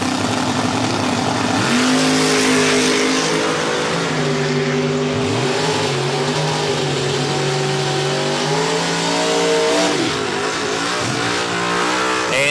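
Drag racing dragsters launching side by side down the strip at a Spring Fling event, engines roaring loud and close, pitch sweeping upward as they accelerate away, with no voices over the din.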